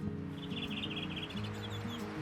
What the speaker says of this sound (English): That's the blackbird, the same as you have in the rest of Europe.